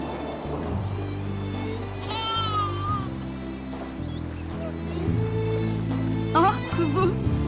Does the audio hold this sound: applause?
no